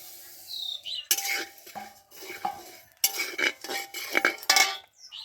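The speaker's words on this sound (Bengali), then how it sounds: "আমি এখন কড়াইয়ের মধ্যে দিয়ে দেবো জিরে" Cumin seeds go into a hot wok in bursts of clinking and scraping, spoon or spatula knocking against the metal over a faint background sizzle.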